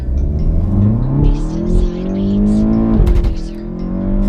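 A reprogrammed VW Golf 7 GTI Performance with 305 hp and 465 Nm pulls hard from a standstill, its loud engine rising through the revs with a gear change partway, tires briefly squealing as it slides.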